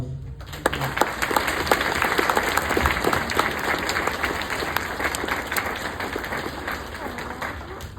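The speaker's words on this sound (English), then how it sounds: "these people deserve a round of applause." Sustained round of applause from an audience at a crime victims' awareness event, dense clapping that starts abruptly and holds steady throughout, with a faint murmur of crowd voices beneath.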